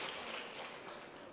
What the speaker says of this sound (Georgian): აპლოდისმენტები მეტი, მეტი.